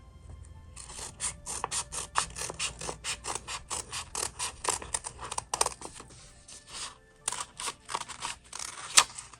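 Scissors snip through bandana fabric close-up in a quick run of crisp, evenly spaced cuts, pausing briefly before a few more irregular snips near the end.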